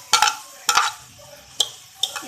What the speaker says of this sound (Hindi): प्याज को चमचा चलाते रहेंगे।